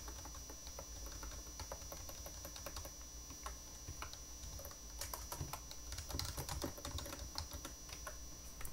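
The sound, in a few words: typing on a computer keyboard, entering data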